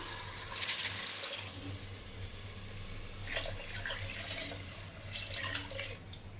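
Water pours in a steady, splashing stream into a cooking pot for biryani, with a low hum in the background throughout.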